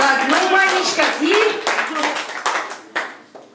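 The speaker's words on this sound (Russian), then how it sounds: "Почему такие жидкие аплодисменты, я не пойму." Wedding guests clap in a thin, scattered round of applause, bursts fading toward the end, while someone talks loudly over it.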